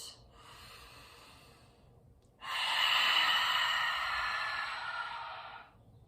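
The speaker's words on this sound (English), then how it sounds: "Breathing all the way in, exhaling all the way out." Breathing exercise: a brief inhale through the nose, a short pause, then one long, full exhale that stays steady and breathy for about three seconds before trailing off, close and quiet.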